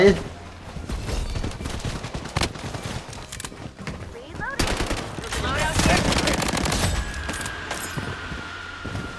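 Gunfire in the video game Blood Strike comes as rapid automatic bursts and scattered single shots, with mechanical clatter throughout. Players talk over the shooting.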